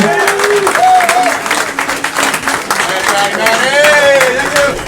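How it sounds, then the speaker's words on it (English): Comedy club audience applauding and cheering a comedian onto the stage, loud and continuous, with a voice shouting over the clapping throughout. "Please give a warm welcome and a big round of applause for Vince Valentine!"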